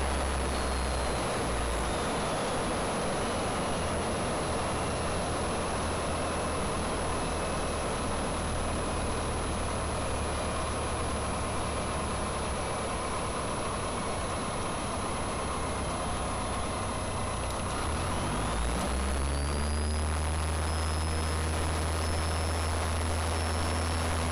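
A small airplane's engine drones continuously in flight, loud and steady, with a shift in pitch near the end as the aircraft slows.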